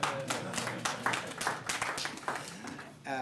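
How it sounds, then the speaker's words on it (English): A crowd claps and applauds with dense, overlapping hand claps for about three seconds; a voice briefly begins speaking at the very end. "Would you like to give me a hand of applause for explaining it well?"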